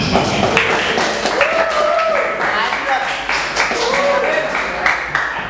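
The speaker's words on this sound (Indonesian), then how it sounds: "Beri tepuk tangan Mas Fahmi." Students at a vocational school assembly clap in scattered, uneven bursts while a voice keeps talking loudly over them.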